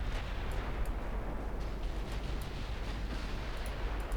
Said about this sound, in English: We are actually hitting with some of our own torpedoes.